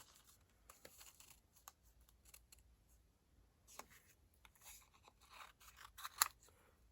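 Scissors trim cardstock for a pink shimmer bauble Christmas card, a series of faint, close, irregular snipping cuts with light paper rustling between them.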